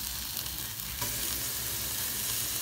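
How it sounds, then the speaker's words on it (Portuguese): Water hitting a hot cooking pan, giving a continuous loud sizzle and bubbling hiss that carries steadily throughout with no pauses or voices. "Aí vamos colocar água pra cozinhar"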